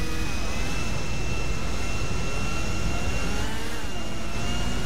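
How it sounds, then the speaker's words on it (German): A Luxor private jet in GTA 5 roars with a steady, loud engine drone as it flies, a continuous whine and rumble held without pause. "Aber der Jet fliegt jetzt."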